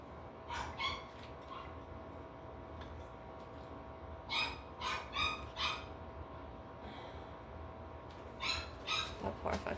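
A dog barks in short bursts of two or three, fairly distant and muffled, spread unevenly over a quiet indoor background.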